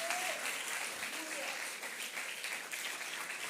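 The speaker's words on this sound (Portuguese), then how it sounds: "pode aplaudir mesmo" A church congregation at a Methodist service applauds, steady sustained clapping from the crowd filling the room, with a preacher's voice over it.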